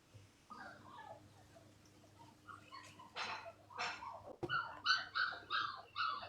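A puppy yips and barks in a rapid series of high, sharp bursts that grow louder and more insistent, with some whimpering mixed in and a low steady hum underneath.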